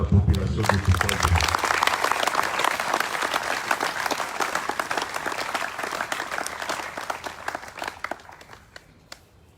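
A crowd at a Congolese political rally in the east of the country breaks into sustained, dense applause that slowly fades over several seconds.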